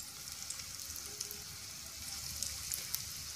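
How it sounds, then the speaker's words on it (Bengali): Chicken fingers deep-frying in hot oil over a medium flame give a soft, even sizzle with scattered small pops and crackles, fairly faint and steady, no voices. "3-4 মিনিট সময় নিয়ে এই চিকেন ফিঙ্গারগুলো ভালো করে ভেজে নিতে হবে"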